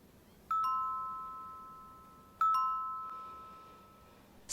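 Doorbell ringing in a home: two bright electronic chimes sound about two seconds apart, each with a sharp onset and a long decaying ring, clear and alone against a quiet background.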